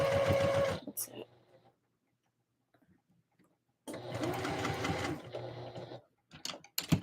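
A sewing machine stitches Christmas dress pieces together with a short stitch length, running in two close bursts of a few seconds each with a quiet pause between and faint handling noises.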